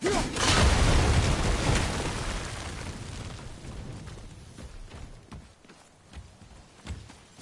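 A big explosion booms in the video game God of War, a loud low blast that rumbles and slowly fades over several seconds, with scattered debris thuds trailing off afterward.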